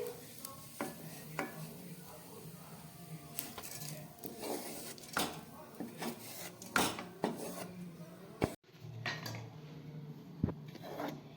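A spoon scrapes and rasps against a pan as fried whole spices are lifted out of hot oil: quiet, irregular scratching strokes with a few sharper knocks, and no voices.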